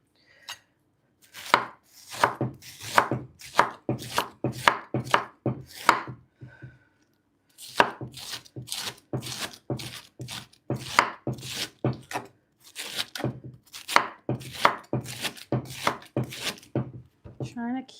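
A knife rapidly chops vegetables for vegan rice paper dumplings on a noisy table, with steady rhythmic strokes close by and a brief pause partway through.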